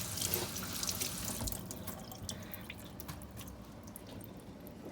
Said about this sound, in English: I'll probably turn the faucet on and let it just slowly trickle onto